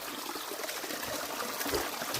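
Water pours and trickles in a steady, splashy stream, close by, brief and continuous with no voices.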